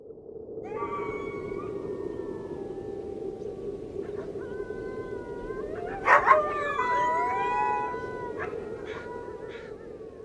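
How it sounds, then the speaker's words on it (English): A dog whines and yelps in drawn-out, wavering cries, several pitched calls rising and falling over a low steady hum, with a louder burst midway. "A low, sad whining noise came through the door."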